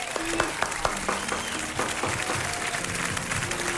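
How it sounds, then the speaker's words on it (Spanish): Studio audience applause on a Chilean talk show, a continuous dense patter of clapping under a brief spoken phrase. "Gracias, Aplauso Rodrigo"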